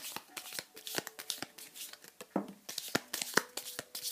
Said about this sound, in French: Mélanger le paquet.